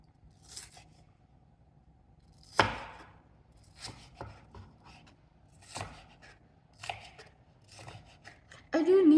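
A knife chopping garlic and onions on a cutting board, irregular crisp cuts at close range, some single and some in quick clusters, with sparse quiet sounds between.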